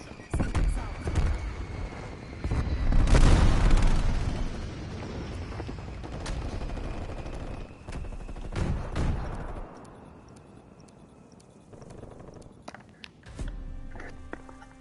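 A strafe-run air attack in a video game: dense bursts of gunfire and explosions pile up loudly, then thin out into scattered sharp shots and softer rumbles.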